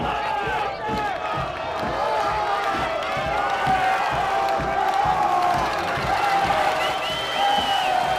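Spectators at a Class MM high school football semifinal between North Haven and Wilton roar and cheer in a sustained, fairly distant crowd din with some whoops, holding steady across the stretch.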